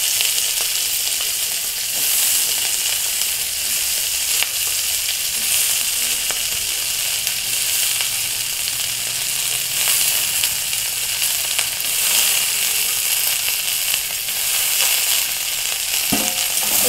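Beans and cut eggplant with garlic fry in hot oil, giving a loud, steady, close sizzle that holds throughout, with a brief stirring scrape near the end.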